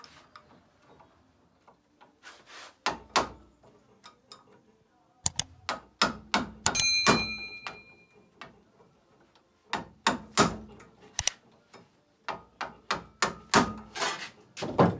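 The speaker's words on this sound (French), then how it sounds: "il nous a fait le trou dans l'alternateur, dans la couronne, pour pouvoir sortir la vis en fait avec un tournevis à frapper" Sharp metallic strikes from hammering an impact screwdriver to free a stuck screw in a car alternator's ring gear, coming in irregular bursts of close, loud blows separated by short pauses.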